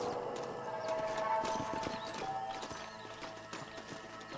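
In the Red Dead Redemption video game, horses clip-clop on the ground in a quiet, steady patter of hoofbeats, with faint tonal sounds drifting over it.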